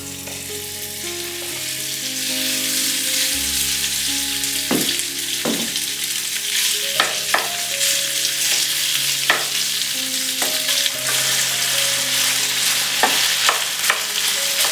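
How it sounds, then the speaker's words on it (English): Beef stir-frying in oil in a non-stick pan on high heat, a loud steady sizzle with intermittent clacks of stirring, close up, with faint background music and no talk. "We're gonna stir fry our beef first."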